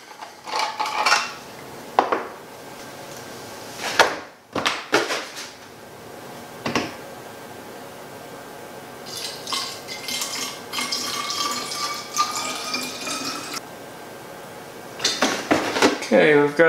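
Distilled water is poured into a hydrogen water bottle, a wavering splash and trickle that runs for several seconds alongside clinks of dishes and handling knocks, with a person talking before it starts.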